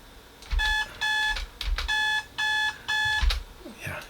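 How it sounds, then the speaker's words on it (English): A digital alarm clock sound effect plays as five rhythmic bursts of rapid, harmonic electronic beeping, each lasting about half a second and separated by short gaps, clear and close with no talk. "I want to add the annoying alarm clock"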